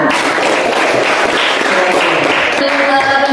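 A classroom audience applauds after group A finishes a presentation, dense steady clapping filling the whole stretch at close range with a bright, noisy texture.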